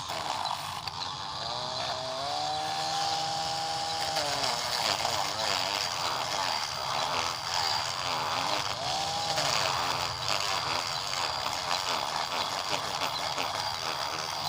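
Steady, loud grinding whir of a power sanding attachment working a copper ring, continuous throughout with rising and falling pitch sweeps and a rough, rattling texture.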